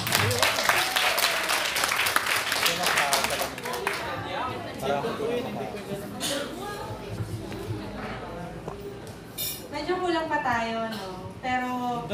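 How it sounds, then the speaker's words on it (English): A brief round of clapping opens at a Christmas party, lasting about three seconds before fading as a voice and other chatter take over the room. "give her a round of applause, the very gorgeous and beautiful Miss Dina Caparaz."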